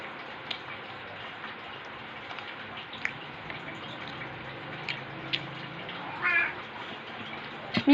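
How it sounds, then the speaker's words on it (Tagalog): A house cat gives a single short meow near the end, faint and somewhat close, over a steady low household hum with a few small ticks. "Meow, meow, meow,"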